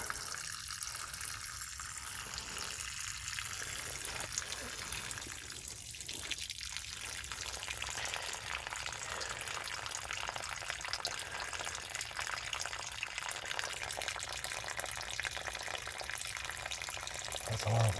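Water rushes steadily through an HVAC duct line in a home, a constant broadband wash that runs evenly throughout, with faint voices briefly audible early on.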